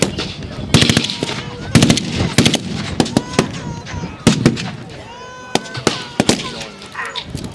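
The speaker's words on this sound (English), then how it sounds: "The machine gun has got them pinned down." Machine gun firing in repeated sharp bursts at an outdoor Boer War battle reenactment, with scattered rifle shots and pops between bursts, loud and fairly close with some background voices.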